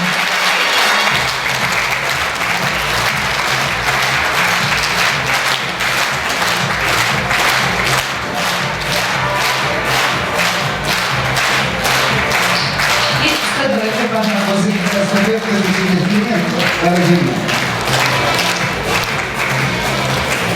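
Sustained, loud audience applause for an award winner at a Khakas song project ceremony, steady dense clapping from a full hall with music rising underneath partway through.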